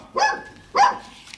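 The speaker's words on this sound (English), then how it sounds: "Good dog." Two sharp dog barks about half a second apart, close and loud, with a faint yip after, in a quiet indoor scene from a comedy.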